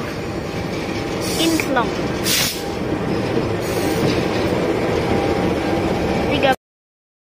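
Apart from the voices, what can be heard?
locomotive at the Cilacap depot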